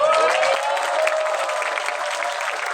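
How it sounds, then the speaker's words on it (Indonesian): An audience at a church youth camp applauds, a dense, steady wash of clapping hands held at an even level throughout, with faint voices mixed in. "Itu dia memberi aplaus atas responsnya."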